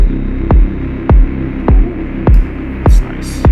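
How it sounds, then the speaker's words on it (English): A deep techno synth treated with ring modulation or flanger throbs in loud, evenly spaced low pulses about every 0.6 seconds over a static, wind-like hiss, with airy bursts in the last pulses. "this ring modulation or flanger thing"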